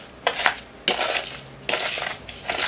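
Salt and spice mixture with crushed bay leaf being stirred in a bowl for curing mackerel, three close bursts of scraping and clinking separated by short pauses.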